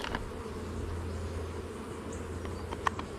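A low, steady buzzing drone of honeybees from an opened beehive at a waterfront apiary, close and continuous, with a few faint clicks near the end.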